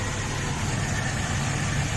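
A privately owned car with Dhaka Metro registration idles with its engine running, a steady low rumble close by and unbroken for the whole stretch, with no voices over it.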